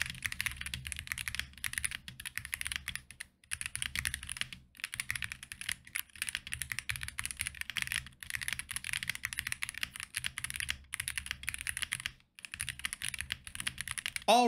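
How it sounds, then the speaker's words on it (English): WAIZOWL Lightning 60HE keyboard being typed on: steady runs of quick, crisp keystrokes in close, quiet bursts, broken by a few short pauses, with no voice. "in terms of the typing sound, I'll give you a little sound test here."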